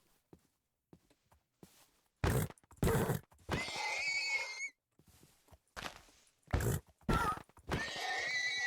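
Horses in the Minecraft Cobblemon video game: several short, loud whinnies and snorting neighs in separate bursts, with quiet gaps and faint clicks between them.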